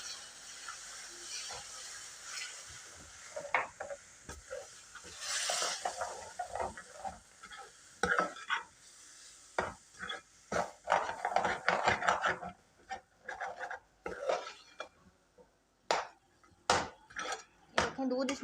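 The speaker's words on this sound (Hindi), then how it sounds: "दूध डालते हुए आपने इसको चम्मच को अच्छे तरीके से चलाना है" A spoon stirs semolina halwa in a pan as milk is added bit by bit, making irregular scraping and clinking taps with soft liquid hiss, fairly close, with a voice speaking at times.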